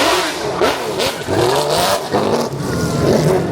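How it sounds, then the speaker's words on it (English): A McLaren F1 GTR race car doing donuts, its engine revving loud and close in sustained, rising and falling bursts throughout, with a dense, gritty roar. "we just caught some awesome action of a McLaren F1 GTR doing donuts"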